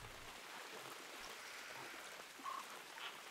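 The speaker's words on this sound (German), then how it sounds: "man hört auch wieder Wasser plätschern" Steady splashing water in a flamingo enclosure in the Planet Zoo video game, a continuous soft wash like a running stream with no talking.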